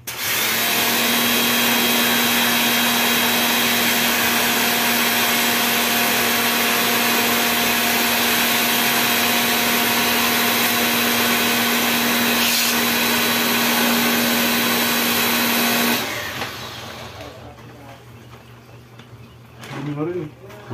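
A loud, steady motor whine with a constant hum runs without pause, then cuts off abruptly, leaving quieter background noise and faint sounds.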